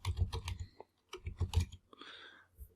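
Fingers type a prompt on a computer keyboard in Adobe Firefly, irregular clusters of close, crisp key clicks with a short pause midway.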